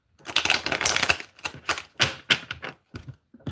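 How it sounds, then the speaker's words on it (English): Tarot cards shuffled by hand in a run of crisp, papery riffling bursts and taps, close and fairly loud, with brief pauses between flurries and no talking. "My cards don't want to shuffle."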